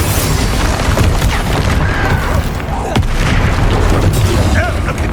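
A Bombarda blast spell erupts in the video game Hogwarts Legacy, a loud, deep boom set within continuous dense combat noise with sharp cracks and rumbling that last the whole stretch.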